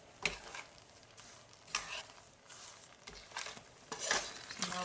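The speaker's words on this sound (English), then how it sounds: "with the milk I am now adding sugar. So this is a 2 cup of sugar. Now mix everything well." Almond milk and sugar stirred in a pan while cooking burfi: soft scraping strokes and faint sizzling, with several sharper spoon scrapes against the pan, fairly quiet and with no talking.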